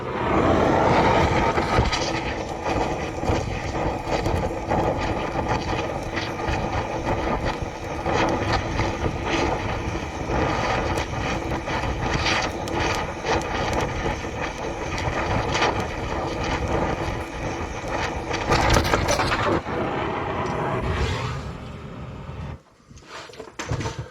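A heat torch blasting a seized part on a 1970 Ford Falcon in a shop: a loud, steady, broadband roaring hiss sustained for over twenty seconds, then cutting out near the end, no talk.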